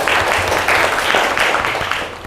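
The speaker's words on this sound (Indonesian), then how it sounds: "Tepuk tangan untuk Bilkis." Students in a classroom clap for a classmate after an Indonesian language answer, a short dense round of many hands clapping, loud and close, lasting a couple of seconds without speech.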